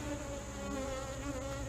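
Honeybees buzz in a continuous, dense drone around an open beehive during an inspection, the whir steady and close without any talk.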